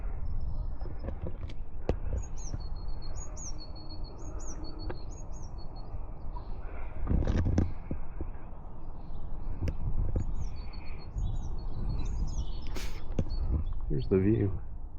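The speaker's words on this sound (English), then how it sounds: "It's owned by pigeons now." Birds chirp in short, high bursts around the Bothwell Castle ruins in Scotland, scattered over a steady outdoor rumble of wind and handling noise.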